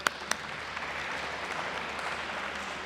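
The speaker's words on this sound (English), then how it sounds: "Please just give a round of applause for our president." An audience at a women in sports awards event applauds for the club president, a steady moderate clapping with a couple of sharp louder claps at the start.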